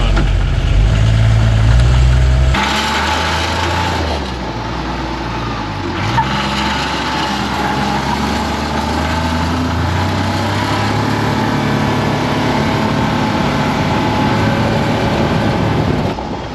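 A D4 MRZR UTV engine runs steadily on a dyno, a loud, continuous mid-pitched drone that holds level for the whole stretch after an initial louder rumble, with no talk.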